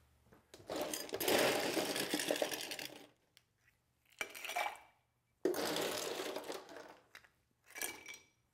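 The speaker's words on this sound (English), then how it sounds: "Now we add the ice." Ice is added to a Rum Ramsey cocktail, heard as loud, close bursts of rattling, clattering ice separated by short pauses.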